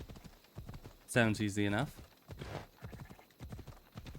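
Horse hooves clip-clop steadily in Assassin's Creed Odyssey, broken by a loud whinny near the start, while someone talks over the trotting.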